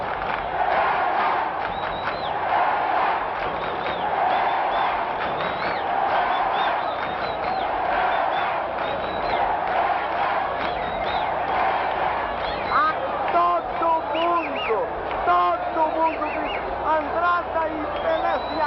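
Football stadium crowd roaring and chanting before Pelé's penalty, a dense, continuous wall of cheering with voices and whistles rising toward the end.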